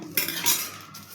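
A spoon stirring and mixing ingredients in a metal pot, a couple of close scraping, clinking strokes against the pot, brief and fairly clear with no talking.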